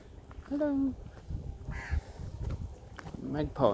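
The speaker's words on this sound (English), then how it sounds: "Magpies." Magpies call out in the open on a granodiorite hillside walk in South Morang, Victoria, with a few warbling, rising calls spaced out through the clip among rustling and a voice nearby.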